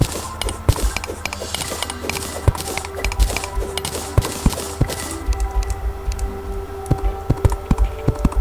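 Rapid computer keyboard typing during a Terraria game session, with uneven bursts of sharp close clicks and clacks, some keystrokes louder than others, running throughout with no voice.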